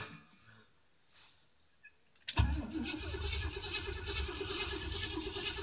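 A 1987 Chevy V10 truck with a fuel-injected engine cold-starts in snow: a quiet moment with faint sounds, then a sudden crank and catch into a loud, steady rough idle that runs to the end.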